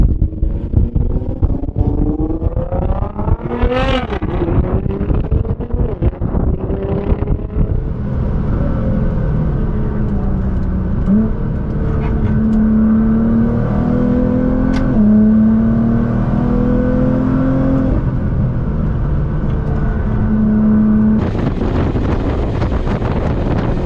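A Nissan GT-R accelerates hard on a race track, its engine climbing through rising gear pulls with shifts along the way, then holding a sustained drone. Heavy wind buffeting roars over the recording, and nobody talks.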